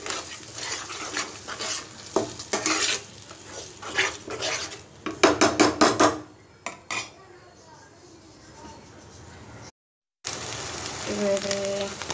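Ginger garlic paste sautés for mutton kosha as a spoon scrapes and clatters against the pan over a sizzle, in bursts of stirring before quieter frying, a short silence, and then more sizzling.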